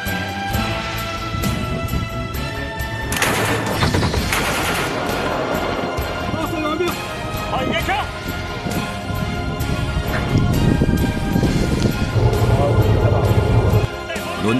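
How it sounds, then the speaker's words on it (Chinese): Rapid gunfire from a moving boat in a shooting contest, dense bursts of shots with crashes over engine and water noise, loud and continuous, under a narrating voice. "射击过程中九哥需要不断调整枪口进行射击"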